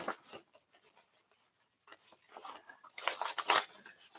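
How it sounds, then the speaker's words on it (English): Close, crisp scissor snips cut through paper in a series of short strokes, growing busier and louder toward the end. "I need my smaller scissors"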